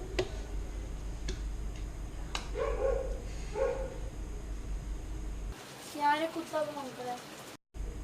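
Dogs bark indoors in a kitchen, a few short distant barks early on followed by a louder, closer run of yelps and barks near the end, with rain-like ticking underneath.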